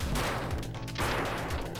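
A sniper rifle fires in Duck Game, a dense, loud burst of blasts and booming impacts that fills the whole short stretch without a pause.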